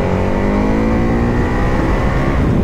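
KTM 1290 Super Adventure S V2 motorcycle engine, a 160 hp V-twin, accelerating hard with a loud, rising, rough growl heard up close and continuous, with no talking.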